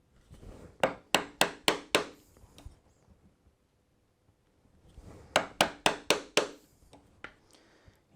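A chisel struck with a mallet to chop a mortise by hand in wood: two bursts of about five or six sharp, evenly spaced knocks, close and clear, separated by a quiet gap.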